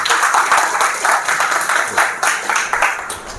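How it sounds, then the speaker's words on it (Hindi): Audience applause at an engineering student orientation program, loud clapping from a hall full of people with a slightly pulsing rhythm, sustained throughout. "तालियां होनी चाहिए इनके लिए।"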